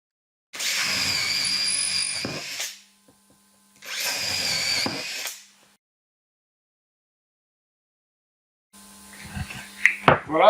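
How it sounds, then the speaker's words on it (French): A power drill pre-drilling screw holes in laminate, two sustained whirring bursts of about two seconds each separated by silence, followed by clattering handling noises. "j'ai prépercé mes trous de vissage"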